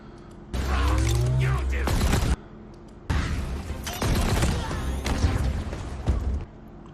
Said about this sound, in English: Nice explosion there.